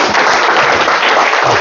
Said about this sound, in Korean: 큰 박수로 박사님 모시겠습니다.